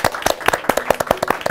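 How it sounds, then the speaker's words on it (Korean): A small studio audience claps in a brisk, sharp rhythm to close a Korean Buddhist broadcasting talk program, with close, distinct claps that sound alone and hold steady throughout. "이 시간 마지막 시간 박수를 치면서 한번 마무리 좀 할까요?"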